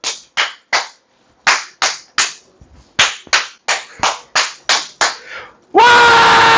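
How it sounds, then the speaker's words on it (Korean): A classroom claps the Korean 3-3-7 cheer rhythm: three claps, three claps, then seven sharp claps, close and crisp with short gaps, ending in a loud group shout. "내가 337 박수 치는 거예요"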